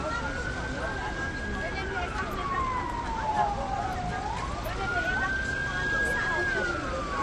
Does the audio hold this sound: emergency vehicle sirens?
yes